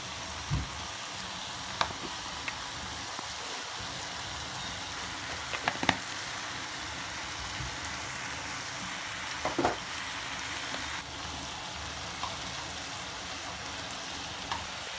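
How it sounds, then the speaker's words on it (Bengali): Onions frying in a home kitchen pan give a soft, continuous sizzle at low level, with occasional clinks of stirring utensils. "পেঁয়াজগুলো একটু ভাজা ভাজা হয়ে আসলে আমি অন্যান্য সব মশলাগুলো দিয়ে দিব"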